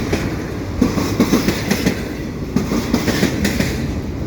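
A steady low rumble and rattling clatter with rhythmic clickety-clack beats as a train passes close by, shaking a metal railing at Beaconsfield station.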